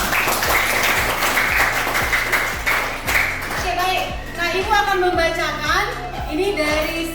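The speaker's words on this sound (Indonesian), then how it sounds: "tepuk tangan dulu untuk kalian" A group claps in rhythmic applause in a school classroom, with children's voices chattering over the clapping and a sing-song tone near the end.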